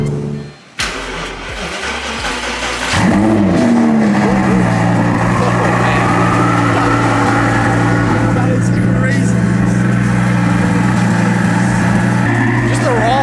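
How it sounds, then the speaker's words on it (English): A Lamborghini Aventador fires up with a sharp starter catch, then settles into a loud, deep, steady idle with brief blips of revving, close and dominant, with people talking beneath it. "He just fired up the Aventador."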